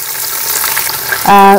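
Ground garlic and spices frying in hot oil for night pulao, a loud close crackling sizzle that holds steady, ending with a brief tonal clang of metal.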